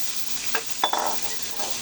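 Pieces of liver and heart drop into a hot buttered frying pan for chopsuey and sizzle up close, with a couple of short stirring clatters over a steady frying hiss.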